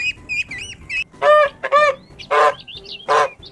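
Farm birds calling in a quick series of honks and quacks, loud and close, with several short nasal calls spaced over a few seconds and no talking.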